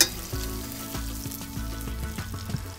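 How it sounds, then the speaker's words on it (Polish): Steady close-up sizzle of potatoes frying with spices, with a regular clattering rhythm from stirring in the pan, no voices. "Ziemniaki nadal się smażą razem z przyprawami"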